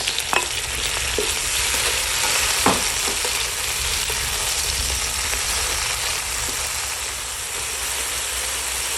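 Tomatoes sizzle loudly in a hot pan with garlic and onion for ginisang sayote, a continuous frying hiss broken by occasional scrapes of the stirring utensil.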